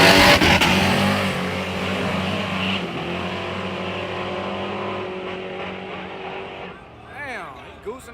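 A junkyard Studebaker drag car at the Yello Belly Dragstrip, its engine revving loudly and close in a steady, rough drone that eases off near the end, with people talking nearby.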